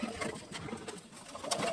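Soft, throaty pigeon coos repeat across a short stretch, close by, with rustling and shuffling noise underneath.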